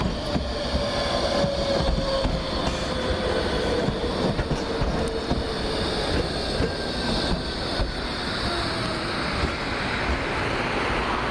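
One of Nottingham's original trams rumbles steadily in close by as it arrives, wheels grinding and squealing on the rails, loud and continuous with no voices.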